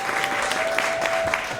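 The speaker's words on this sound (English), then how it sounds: "please, everybody, give our hand a round of applause for Darren" An audience at a scholarship fundraiser brunch applauds a speaker being welcomed to the stage, a dense, steady patter of clapping with a faint sustained tone ringing underneath.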